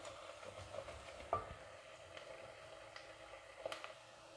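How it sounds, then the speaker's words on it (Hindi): Onions fry in a pan while being stirred for baingan bharta, a soft, steady sizzle broken by a few light scrapes and clicks of the spoon, quiet and without talk. "प्याज फ्राई हो रहा है।"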